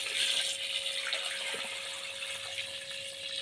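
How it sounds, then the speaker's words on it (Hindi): Water runs steadily into a cooking pot holding siri paye ingredients in a home kitchen, a soft continuous splashing stream close by with no talking. "और पानी इसमें डाल रही हूँ अभी"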